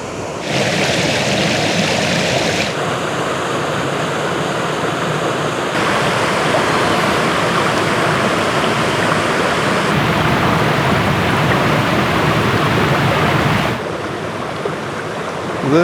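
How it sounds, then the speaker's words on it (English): A waterfall in the Ozark National Forest roars in a steady, loud, broadband rush of falling water, close by and unbroken for the whole stretch with no voices over it. "here's a waterfall that we are going to stop and take a look at right quick."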